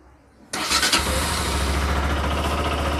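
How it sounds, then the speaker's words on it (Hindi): A Bajaj Pulsar RS200 motorcycle engine cranks and fires after a brief quiet moment, then settles into a steady, close, loud idle with a low rhythmic throb. "तो चलिए करते हैं बाइक को स्टार्ट"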